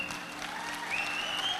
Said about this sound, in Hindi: इसको ताली बजाकर आशीर्वाद दो